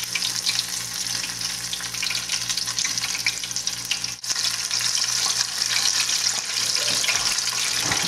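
Gluten-free onion rings, coated in egg and a tapioca flour substitute, fry in a pan with a loud, dense, continuous sizzle and crackle that fills the clip close up, with one brief dip near the middle.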